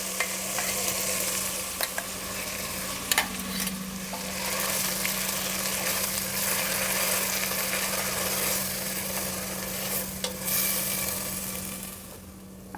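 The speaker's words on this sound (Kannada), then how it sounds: "ಈಗ ಮಸಾಲೆನ ಸೇರಿಸ್ತಾ ಇದ್ದೀನಿ," Ground masala sizzles steadily in a pan while a spoon scrapes and stirs it in with repeated strokes. A low hum runs underneath throughout, and no one talks.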